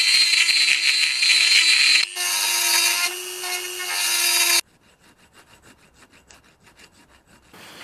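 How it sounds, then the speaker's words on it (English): A Dremel rotary tool cuts a slot between two 4 mm drilled holes for a hidden knife tang, a loud high grinding whine for about four and a half seconds, briefly changing pitch, then stopping to faint scraping. "now I just need to connect these holes with just my Dremel."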